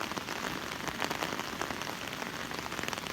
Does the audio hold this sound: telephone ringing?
no